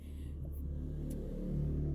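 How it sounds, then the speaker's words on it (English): A car rumbles past close by in a steady, swelling drone that grows slightly louder toward the end, with no talking. "Car coming by, right?"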